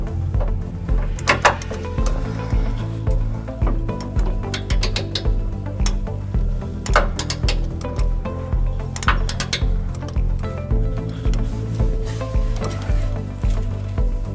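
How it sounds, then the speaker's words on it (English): Torquing truck frame bolts for a trailer hitch on a 2007 Toyota Tacoma with a 19 mm socket on a 5-inch extension, giving repeated ratcheting clicks and sharp metallic clinks over a steady low engine-like hum. "I'm going to use a 5-inch extension and a 19 millimeter socket"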